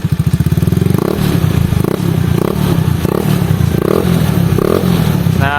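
A carbureted Honda Beat motorcycle with a stock AHM exhaust and thinned glass wool packing revs repeatedly up close, loud throttle blips rising over a rough, slightly raspy idle.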